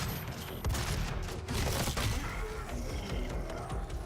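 Rapid video game gunfire from DOOM 2016, a steady dense volley of shots with mechanical clatter running through, loud and close, without talk.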